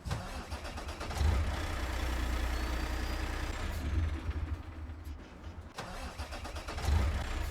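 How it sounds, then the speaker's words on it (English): An old truck engine in American Truck Simulator, a Marmon 57P, cranks and turns over with a low rumbling churn, cuts out briefly, then cranks again, the deep engine drone close and steady. "let's get the engine on so we can head out"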